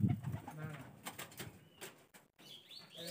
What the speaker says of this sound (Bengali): আমরা ঢুকাতে কবুতরগুলো পুরো উড়াল টুড়াল দিয়ে